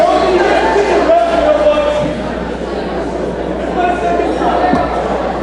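Gym crowd at a high school volleyball game murmuring and chattering in a steady indoor wash of many voices, with one nearer voice talking over it.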